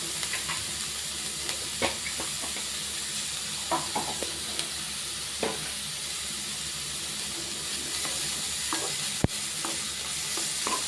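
Onions sautéing in a pan while making a Tamil-style ponnanganni keerai thuvattal, a steady sizzle and hiss with intermittent scraping stirs and one sharp clack near the end.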